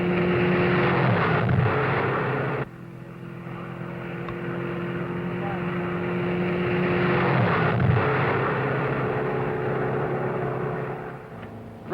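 A race car laps a big high-banked concrete oval, its engine a loud continuous drone that swells and fades as it passes, with a steady tonal whine throughout and no voices.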